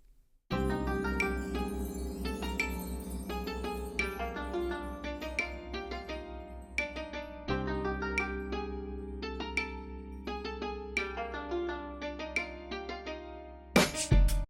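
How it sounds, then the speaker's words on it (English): A full instrumental groove with a bright wooden clave clicking a steady rhythm in minims starting on the second beat, over bass and keys, running continuously until a sudden loud hit near the end. "You can hear that the clave is playing in minims starting on the second beat of the first bar."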